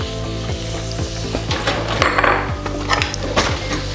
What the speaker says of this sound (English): so we're gonna throw some onions in here and saute